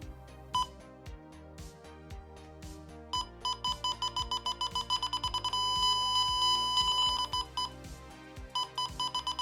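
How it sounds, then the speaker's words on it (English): Beeping from an HC-SR04 ultrasonic proximity sensor test rig for an RC plane, a run of electronic beeps that starts spaced and speeds into a rapid, nearly continuous pulse, near and clear. "I used the beeping proximity code to test the setup out."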